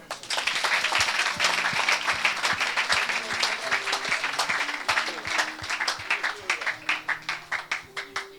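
A church congregation claps and cheers in loud, sustained applause during a deliverance service, with dense overlapping hand claps and some raised voices, thinning into more distinct individual claps toward the end.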